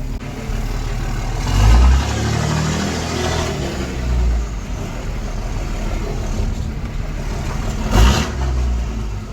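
A Cummins hotshot truck engine fitted with a full 5-inch exhaust drones loudly while driving, with deep rumbling swells as the driver gets on the throttle around a few moments, steady and close throughout.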